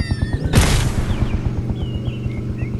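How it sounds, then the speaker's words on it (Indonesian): A bomb goes off in a Halloween-themed video game, a sudden loud broadband blast that rumbles and decays over a second or two above a steady rhythmic game music loop. "Awas bom. Lari."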